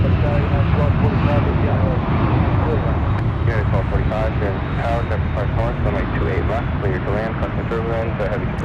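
A Boeing 777 airliner taking off from San Francisco airport roars with a loud, continuous jet-engine drone, while someone talks over it throughout.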